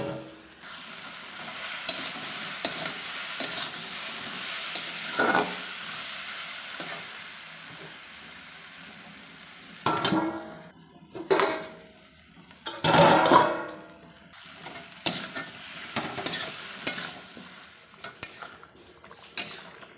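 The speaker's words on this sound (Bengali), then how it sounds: "ঢাকা খুলে ঘন ঘন করে নাড়তে হবে, না নাড়লে হবে না।" Curry being stirred in an open pan after the lid comes off: a low frying sizzle with clusters of clinking, scraping spoon strokes against metal, close and intermittent, growing busier in the second half.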